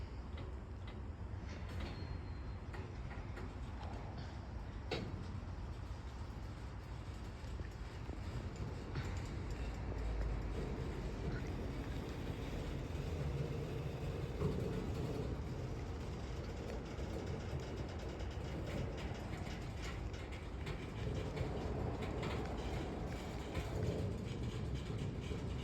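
A Norfolk Southern freight train in the Sharonville yard gives off a low, steady rumble with faint creaks and clanks as it begins to move, heard from a distance with no talk.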